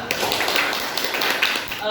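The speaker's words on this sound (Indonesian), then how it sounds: "tepuk tangan untuk Akmila." Students in a classroom clap together, a dense, steady patter of many hands running the whole way through, with voices mixed in.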